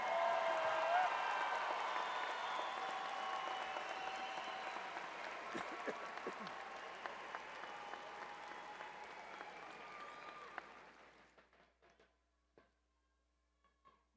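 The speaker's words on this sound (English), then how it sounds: "Let's give our graduates another round of applause." Commencement crowd applauds graduates in a dense, steady wash of clapping that gradually thins and dies out after about eleven seconds, with a brief voice at the start.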